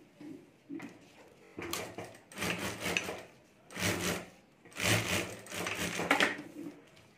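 A domestic sewing machine stitches the lining of a homemade mobile phone cover in short bursts, several stop-start runs of close mechanical chatter separated by brief pauses.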